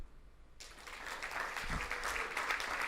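An audience at a speakers' industry event breaks into applause after a short quiet moment, many hands clapping in a steady, moderately loud wash that grows and holds to the end.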